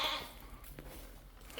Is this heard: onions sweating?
no